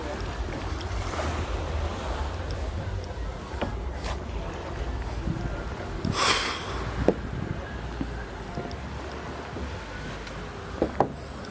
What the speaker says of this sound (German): jetzt sind wir direkt auf dem Meer